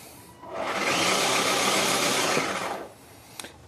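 An upgraded 24V motor in a Kidtrax Power Wheels ride-on runs in reverse: a steady, close whirring drone that swells in, holds for about two seconds, then cuts off, followed by a faint click.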